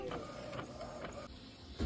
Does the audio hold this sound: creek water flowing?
no